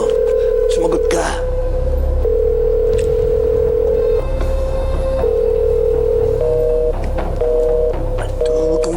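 Telephone call tone on an unanswered call, a loud steady tone broken into segments with short pitch steps and clicks, under an ongoing dramatic scene.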